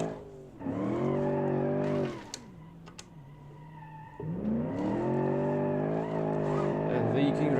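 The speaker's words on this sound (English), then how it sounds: "With me failing at drifting completely" Drifting car tires squeal and scrub over a droning engine in BeamNG, the engine pitch rising and falling as the car slides, with a brief quieter dip midway before the revs and screech return.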